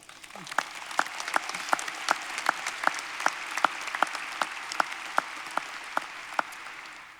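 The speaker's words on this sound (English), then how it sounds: "That right there deserves an applause." Sparse, rhythmic clapping rings out in evenly spaced sharp claps over a soft crowd wash at a graduation ceremony, fairly close and steady for several seconds.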